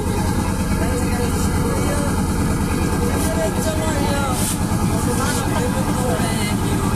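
A steady, low trawler boat engine rumble drones throughout, loud and close, with constant broadband noise over it, in the Rangamati hills.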